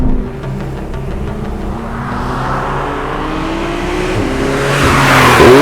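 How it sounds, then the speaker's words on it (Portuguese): A Porsche 911 Carrera GTS is driven hard on a twisty road, its engine revving up through the gears with rising pitch, a shift in the middle, and wind and tyre noise building toward the end. "é enervante a experiência de andar com um Porsche numa estrada como essa"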